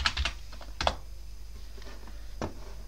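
Someone types a playlist name on a computer keyboard running Ubuntu 22.10, giving a quick burst of clicking keystrokes, a short pause, then one more key tap, close and fairly quiet with no voices.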